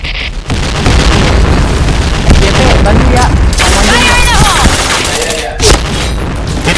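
Loud booms and bursts of gunfire from a video game shooter, with grenades detonating amid sustained rapid shots and a brief voice cutting in near the end.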